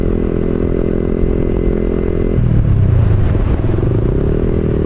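Motorcycle riding on a road, gears shifted up without pulling the clutch, its engine droning loud and steady with a change in pitch partway through as the gear changes, wind and rattle mixed in.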